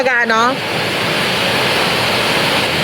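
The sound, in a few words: heavy rain pouring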